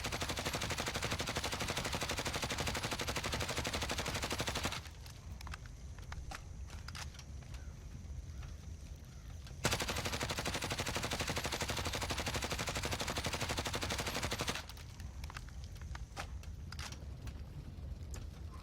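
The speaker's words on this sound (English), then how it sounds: "This last bullet spread is no recoil control, just letting the gun rip." Full-auto Grau rifle fire in the shooter game Warzone: two long, dense, unbroken bursts of rapid gunshots, each about five seconds, separated by quieter stretches of scattered shots and mechanical clatter.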